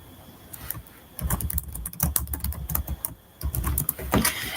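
Keys clattering on a computer keyboard in irregular bursts of typing, fairly close, with brief pauses between runs and no voices.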